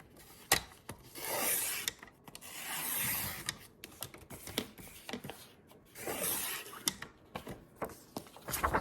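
Canvas is trimmed with a scrapbooking paper cutter, giving several rasping, rubbing strokes with light clicks between them, close up and without talk.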